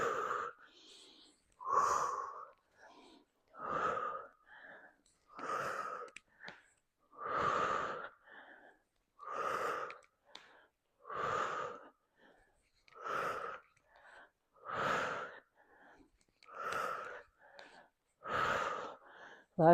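Heavy rhythmic breathing during a full-body strength workout, steady inhale-exhale cycles roughly every two seconds, close and clear with no talking over them.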